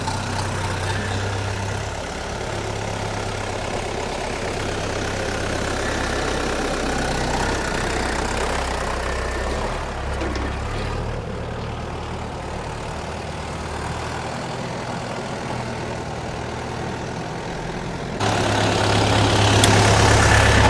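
A DTZ 5404 tractor pulling a two-furrow plough in a field, its engine droning steadily and loud throughout, rising in revs near the end; no voices.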